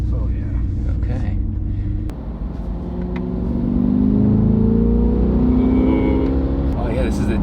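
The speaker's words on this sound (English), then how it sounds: "Oh yeah, this is a dual clutch trans. The shifts are just clean." A Corvette C8 with a dual-clutch transmission accelerates in track mode, its engine rumble rising with a clean shift partway through, the drone loud and steady from inside the car with occasional talk over it.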